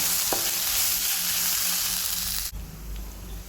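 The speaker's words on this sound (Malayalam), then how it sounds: "അത് ഇതിലേക്ക് ചേർത്ത് കൊടുക്കാം നന്നായിട്ട് വഴറ്റിയെടുക്കുക" Slit green chillies sizzle and sauté with onions in hot oil in a pan, a steady close frying hiss with occasional stirring, fading quieter near the end.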